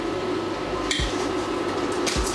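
A metal spoon stirs salt into food in a home kitchen, making two short scraping clinks against the bowl over a steady low background hum.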